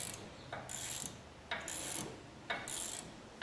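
Socket wrench ratcheting on the rear caliper bracket bolts of a 2020 Chevrolet Traverse, giving three even bursts of quick metallic clicks about a second apart, close and clear.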